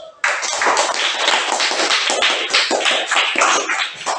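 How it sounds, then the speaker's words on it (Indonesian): A classroom group claps for group 3 after their presentation: a burst of dense applause starts suddenly and holds steady close by for several seconds. "Mari kita berikan tepuk tangan untuk kelompok 3."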